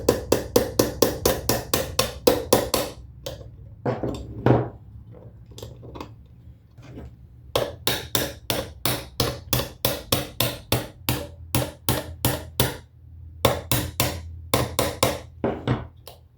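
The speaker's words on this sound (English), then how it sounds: "take your slight hammer and just give it a little bit of a knock" Sharp metallic hammer taps on a roll pin ring out in rapid bursts, dozens of quick knocks with brief pauses between runs, close and loud.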